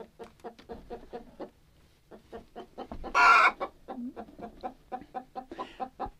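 Hens clucking in a hen house, a steady run of close, rhythmic clucks with one louder, harsher squawk midway, no talking.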